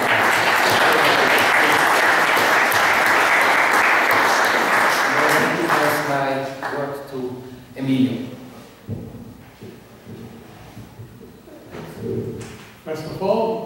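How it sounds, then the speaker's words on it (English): Applause from a conference audience at an opening ceremony in Mexico City, a dense, loud wash of clapping for about six seconds that fades out, followed by someone speaking. "I think we should applaud them for their organizational work"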